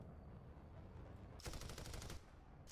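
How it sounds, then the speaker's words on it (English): Roof-mounted machine guns on a Sholef tank in War Thunder fire a single rapid, sharp burst of about a second, loud and close over a steady low engine rumble. "Okay, so ready for these roof-mounted machine guns?"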